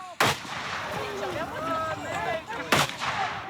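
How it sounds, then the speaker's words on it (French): Two sharp firecracker blasts go off about two and a half seconds apart during police horse crowd-control training, set amid smoke flares and mock supporters, with a busy outdoor background between the bangs. "Au milieu des fumigènes et des pétards."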